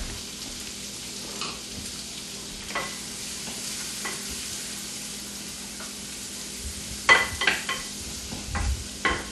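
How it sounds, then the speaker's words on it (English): A small onion sautes in melted butter in a pan on a home stovetop, giving a steady soft sizzle with occasional stirring scrapes and a few louder pops near the end, no voices. "I'm going to saute a small onion in the butter"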